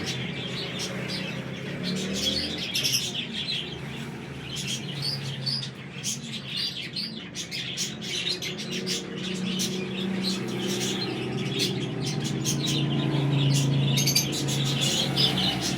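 Flying pigeons kept for Wasakh-Jheth flight competitions, with steady chirps and calls over a continuous low rumble, nearby and moderately loud throughout.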